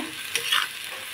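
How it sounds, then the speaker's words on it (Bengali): Cabbage curry sautéing in fish oil in a pan, a close, continuous sizzle with a brief stirring swish in the middle, no voices. "সব কিছু ভালো করে কষিয়ে নেব"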